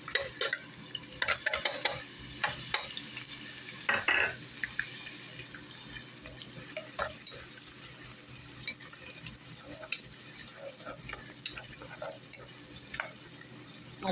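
Onions fry quietly in a pan with a soft background sizzle, punctuated by clattering stirs and utensil knocks, with a watery splash near the start.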